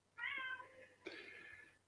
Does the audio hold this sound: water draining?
no